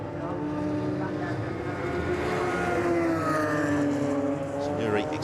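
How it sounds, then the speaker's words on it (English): Radical SR3 race car accelerating out of the pits at Brands Hatch: a steady, loud engine drone with a rising whine, under a commentator's voice throughout. "Accelerates out of the pits"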